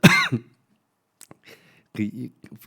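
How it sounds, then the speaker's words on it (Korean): A single close, sharp cough from a pastor during a Sunday morning church service, followed by faint clicks and a brief burst of speech. "독감 바이러스 했더니 바로 기침이 탁 나오네요."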